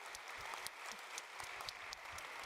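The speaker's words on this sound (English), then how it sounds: "let's also clap for our interpreters so that we've all been able to understand one another tonight" An award-ceremony audience claps steadily for the interpreters, dense and sustained applause that fills the room from start to end with no talking over it.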